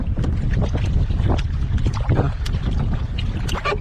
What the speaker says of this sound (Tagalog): pasensya sa hangin, malakas yung hangin